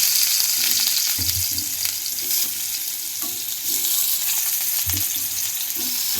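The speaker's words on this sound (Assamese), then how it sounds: "পিঁয়াজ, নহৰু, আদা, কেঁচা জলকীয়া, বিলাহী এইখিনি আকৌ ফ্ৰাই কৰি ল'ম।" Onion, garlic, ginger, green chili and tomato fry in a pan for a paneer curry, giving a loud, steady sizzle close by, punctuated by low thumps and scrapes of stirring, with no speech.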